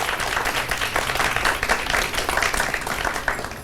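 A live-show audience applauds in a steady, dense wash of clapping that holds level throughout, with faint voices mixed in.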